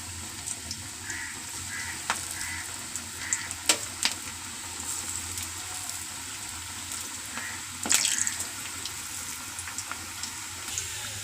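Cabbage bonda batter dropped into hot oil sizzles in a steady, close fry, with a few sharper crackles and splashes rising above the continuous hiss.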